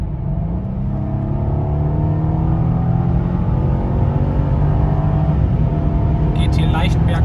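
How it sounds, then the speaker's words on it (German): Mercedes E500 Coupe in sport mode pulling hard from 100 to 200 on a slight uphill, heard from inside as a steady loud engine drone whose pitch climbs smoothly and continuously, with road rumble underneath. "jetzt machen wir mal einen kurzen Pull. 100-200, damit ihr einmal so ein Gefühl dafür kriegt"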